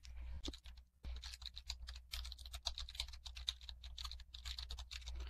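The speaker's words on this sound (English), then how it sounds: "I'll try to type as I'm talking" Typing on a computer keyboard during a lecture, a steady stream of quick clicky keystrokes with brief pauses, close and fairly quiet over a low hum, with no talking.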